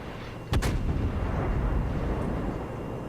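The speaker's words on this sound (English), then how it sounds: "St. Louis goes broadside." The St. Louis fires a broadside salvo in World of Warships: one sudden heavy cannon boom near the start, followed by a long, loud rumbling roar that slowly fades.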